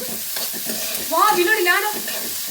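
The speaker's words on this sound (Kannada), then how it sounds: "ಕರಿ ಲೀವ್ಸ್ ಈಗ ಇದನ್ನ ಫ್ರೈ ಮಾಡಬೇಕು" Curry leaves frying in a pan while being cooked for capsicum gojju, a bright crackling sizzle that swells midway through, with a person briefly talking over it.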